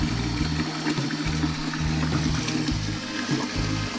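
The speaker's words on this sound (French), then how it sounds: "on va mettre de l'eau jusqu'à la ligne de 23 litres de la belle eau fraîche" Cold tap water runs and splashes into a plastic wine fermenter being filled toward the 23-litre mark for a red wine kit, a steady close rushing flow with a low gurgling pulse and no talk.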